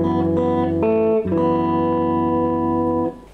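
Guitar plucking strings 6, 4 and 2 together in a short picked phrase, a few ringing chord plucks that sustain and blend, clear and close with no talk.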